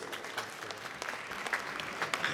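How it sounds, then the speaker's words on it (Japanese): An audience at an RC car race final claps in a dense, steady burst of applause, many hands patting fast and evenly, moderately distant and without voices over it. "さあ選手ご紹介いたしますので皆様大きな拍手でお願いいたします。"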